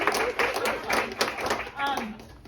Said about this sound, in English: I think we should take a moment to clap for our Seattle Seahawks